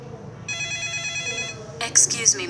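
An office telephone rings with a bright electronic trill in one short burst, followed by brighter chirps, in a scripted business English dialogue with a voice nearby.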